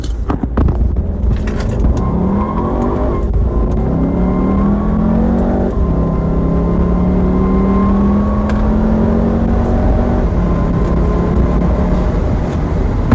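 A 2014 Volkswagen GLI accelerating hard in sport mode, heard loud and close from inside the car, its engine note climbing through several gears with a rising whir and steady road roar throughout.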